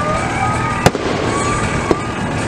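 Fireworks exploding at night on a Saturday, with two sharp, loud bangs about a second apart over a continuous crackling, rumbling backdrop of distant bursts.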